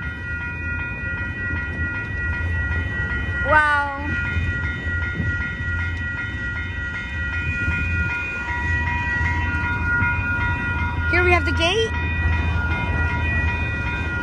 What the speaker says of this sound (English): and we have a train coming here.